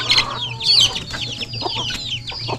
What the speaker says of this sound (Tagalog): nagpakain lang ng mga chicken natin.